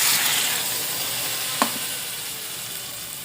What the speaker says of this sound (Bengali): এখানে আমি মশলা করে রাখা জলটা দিয়ে দেব।